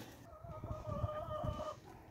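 A pair of pet lovebirds in a cage give a short run of tonal, drawn-out chirps, fairly faint, over low room rumble.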